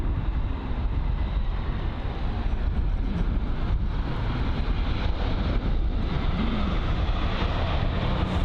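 A Eurowings Airbus A319ceo jet arriving from Dusseldorf touches down at London Heathrow, a loud continuous broadband roar of engines and rushing air that holds steady and close throughout with no pause.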